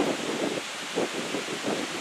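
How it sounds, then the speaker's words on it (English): Steady wind buffets the microphone in rough, rolling gusts, loud and close, with no other sounds standing out. "Sorry, it's windy, folks."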